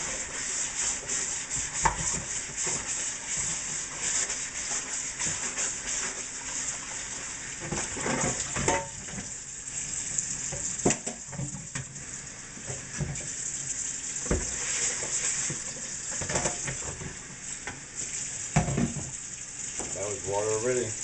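Cold tap water runs steadily into a large bowl for straight-method bread dough, a continuous hiss and splash with scattered clinks and handling noises, and a voice occasionally speaking over it.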